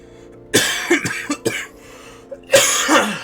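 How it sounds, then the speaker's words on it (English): Several harsh, wet coughs come in bursts, a cluster early on and another heavy fit near the end, close and loud. "God, this fucking cough."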